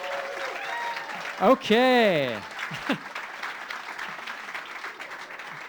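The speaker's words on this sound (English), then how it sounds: "So maybe we can get kind of a round of applause to amp everything up really quickly." An audience at a PechaKucha presentation night claps in a steady, moderate round, with a single person talking clearly over the applause partway through.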